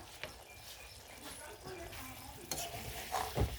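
Fish paste (masor besor bota) fries in a pan with a steady, low sizzle and occasional stirring scrapes, faint and close, while a voice speaks over it.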